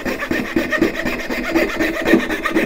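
Handsaw cutting across wood for dovetail joints on a flower box, a steady rasping rhythm of short back-and-forth strokes, close and moderately loud with no talk.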